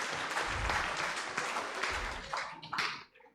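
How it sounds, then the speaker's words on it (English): An audience at a politics and environment panel event claps in brief applause, a full burst of many hands that holds for a few seconds, then thins into scattered final claps and stops. "let's give them a round of applause for sticking to time"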